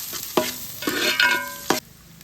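Chopped large onions are stirred in a hot pan while making vegetable fried rice: a few distinct spatula scrapes over a steady sizzle, close and fairly loud, with no speech.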